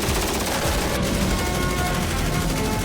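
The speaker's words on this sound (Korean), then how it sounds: "사격 신호가 떨어지자 엄청난 화력이 뿜어진다." Army special forces unleash heavy live-fire gunfire with hundreds of rounds, a dense, loud, continuous roar of overlapping automatic shots with no pause.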